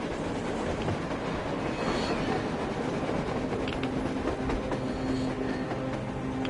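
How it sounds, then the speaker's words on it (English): A train rumbles along on the surface in the video game Metro Exodus, a steady, dense rolling roar with faint clatter and wheel squeal, constant and moderately distant with no voices. "A train! A damn train on the surface!"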